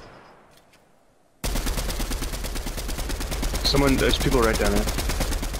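Rapid machine-gun fire in a Fortnite battle hammers away continuously and loudly after a brief quiet start, with someone speaking over the steady rattle.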